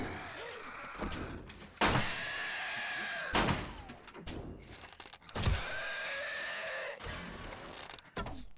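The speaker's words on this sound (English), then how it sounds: "Oh, it broke the door." In the video game 7 Days to Die, a zombie batters a door with several heavy, loud thumps and slams spaced a second or two apart, with faint scraping between the blows.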